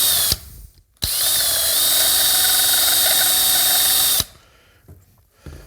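An angle grinder grinding metal while working on a Linhai ATV, one steady, loud, high-pitched whine lasting about three seconds and stopping abruptly, with short clunks and quiet workshop noise before and after.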